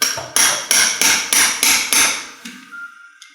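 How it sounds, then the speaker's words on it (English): A surgical hammer drives a TransLoc 3D SI joint fusion instrument into a model, seven sharp metallic strikes in a steady rhythm, loud and close, the last few slightly softer. "I'm going to hammer this the rest of the way home while holding that trajectory in place"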